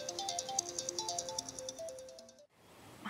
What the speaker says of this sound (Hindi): कब से शोर मचा रहा है तेरा फोन